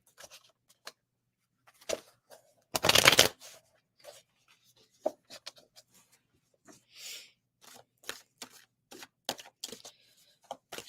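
A deck of cards being shuffled near the mic, a cluster of quick riffling bursts followed by a loud sustained riffle and then scattered soft snaps and flicks, with no talk.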